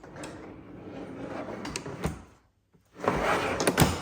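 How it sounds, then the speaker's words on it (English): Drawers of a DeWalt DXL toolbox sliding open and shut via a spring-loaded latch bar, two bursts of rolling, rattling drawer movement with sharp clacks, split by a brief silent gap, close and fairly quiet. "Drawers are opening with like a pull of the latch bar, working these little triggers here that are on a spring setup."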